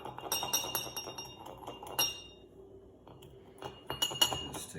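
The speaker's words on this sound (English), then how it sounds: "Then I'm going to muddle it just to dissolve it some." Sugar and bitters are muddled in a glass for an Old Fashioned, with a quick run of sharp glassy clinks and taps from the muddler, a short pause, then another cluster of clinks, all close and fairly quiet.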